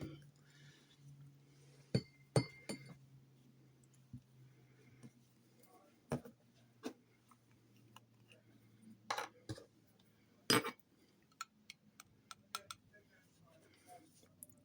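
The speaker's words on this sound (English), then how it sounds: "this is a glass pipette, so it will make a bit of noise" Glass pipette clinking against a glass ink bottle and glass dip pen while filling the pen with ink, a scattering of faint, sharp ticks and taps at irregular intervals over a quiet background.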